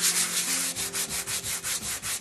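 A wooden piece is roughed up by hand with 120-grit sandpaper in rhythmic back-and-forth scrubbing strokes, close and loud, about two strokes per second.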